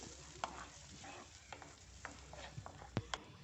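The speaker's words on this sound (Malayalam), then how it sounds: "ഇത് ചെറുതായിട്ടും തിളച്ച് വന്നിട്ടുണ്ട്" Tomato chutney simmering gently in a pan, a quiet low bubbling with a few soft clinks and taps of a spoon scattered throughout.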